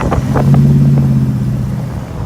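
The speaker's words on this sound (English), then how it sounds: "here at idle, it is still idling pretty rough" A 1936 Plymouth Roadster engine idles rough with a low, steady rumble and a few uneven pulses, close and fairly loud, with no talk over it.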